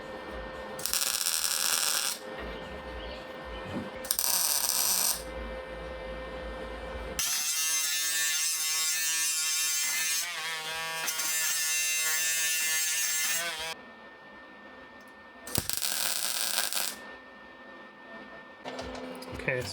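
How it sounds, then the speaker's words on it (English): Welder buzzing in repeated bursts while joining the quarter panel seam on a 1984 AE86 coupe, loud electric crackling runs of a few seconds each with gaps between, and someone talking in the pauses. "this welder's a lot more consistent than that one"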